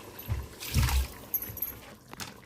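Water splashes and trickles in short pours into a pot of chicken biryani, with low gurgling bursts, close by and fairly quiet, with no voices.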